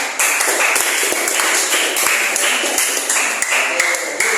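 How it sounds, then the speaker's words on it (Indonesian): Dense, steady clapping from a group of school students, loud and continuous, applauding a presenting team during a class session. "Tepuk tangan lagi biar meriah."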